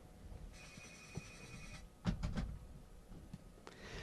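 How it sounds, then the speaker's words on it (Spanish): A landline telephone rings in a quiet room, a sustained electronic trill followed by a couple of sharp clattering bursts and a later brief ring, heard faintly with no talking. "Ahí tenemos un teléfono que suena, que no sé qué es."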